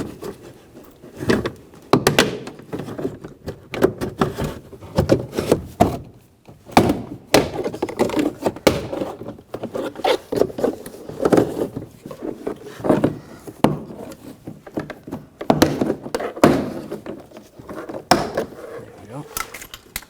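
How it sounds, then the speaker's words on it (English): Plastic trim tools pry the clipped interior door panel off a 2009-2017 Volkswagen Tiguan. Irregular loud thunks, pops and knocks come in clusters, close by, with brief quiet gaps between them. "using a couple of trim tools, just get underneath the door panel and just pop it out"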